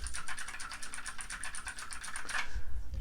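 Fast typing on a mechanical keyboard with clicky blue switches at a desk, a dense, even run of sharp close keystrokes for about two and a half seconds before it stops.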